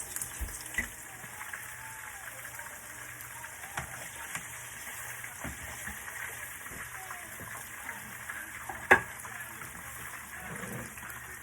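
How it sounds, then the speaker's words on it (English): Steady hiss and crackle of pork chops frying in hot oil, with occasional sharper pops and a brief louder clatter near the end. "So I'm going to go ahead and add my pork chops to the pan."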